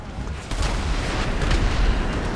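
Rapid gunfire bursts in GTA 5 Online, from a machine pistol and hostile shooters aimed at a vehicle's tires, with booming, crackling shots close and loud and a steady roar beneath.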